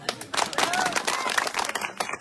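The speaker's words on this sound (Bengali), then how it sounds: "একটা তালি দেন সবাই" Audience at a political rally clapping together in a short burst of dense, steady applause that fills the space, with a voice carrying over the crowd.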